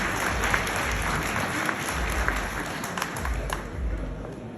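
An audience applauding at a literary gathering, a sustained wash of many hands clapping at moderate volume, fairly even throughout with slight swells and no speech on top.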